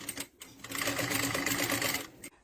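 A sewing machine stitches bias binding on a fabric pouch, a close, fast mechanical whirring run of about two seconds that starts after a couple of short stitches and stops abruptly.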